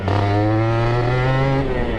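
A Suzuki Satria 120R motorcycle fitted with an aftermarket exhaust drones loudly and close, its engine note rising slightly in pitch across one sustained rev before easing off, with no talk.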